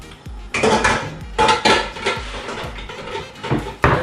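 An old non-stick skillet clatters and clanks as it is pulled out and handled among other pans, with several sharp metallic knocks and scrapes spread across the moment, close and fairly loud, no talking.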